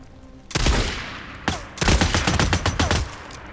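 Gunfire in the Days Gone video game: a loud volley, then a single sharp shot, then a long rapid string of close, punchy shots.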